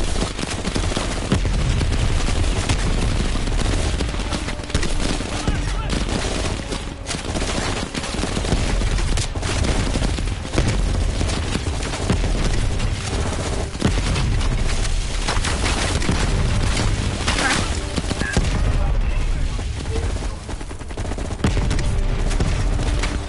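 Dense gunfire in a firefight from the video game Call of Duty Cold War, loud and continuous, with rapid shots and bursts layered into a constant barrage.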